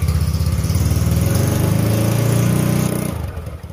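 A motorcycle fitted with an RCB racing exhaust runs at a steady, throbbing idle, loud and close, with a smooth low pulse that eases off slightly near the end; no one speaks over it.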